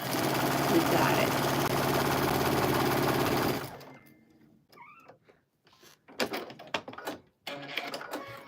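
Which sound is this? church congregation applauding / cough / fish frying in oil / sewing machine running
sewing machine running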